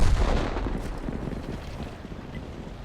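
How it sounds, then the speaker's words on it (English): A T71 tank's gun firing in World of Tanks, a single heavy boom right at the start that decays into a rumbling, wind-like roar. "now I'm gonna shoot them, right?"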